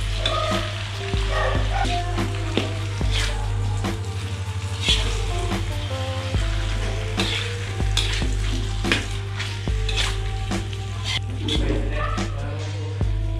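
Beef stew ingredients fry and sizzle in a pan for Betawi-style semur, with steady crackling and occasional stirring scrapes; a voice speaks briefly once or twice.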